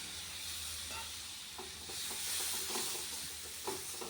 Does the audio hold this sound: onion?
yes